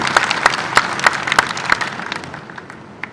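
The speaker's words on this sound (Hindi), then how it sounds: "ताली बजा कर माननीय मुख्यमंत्री का स्वागत करें" An audience at a community gathering of cobblers claps to welcome the chief minister, a loud, scattered applause of sharp overlapping claps that thins out toward the end.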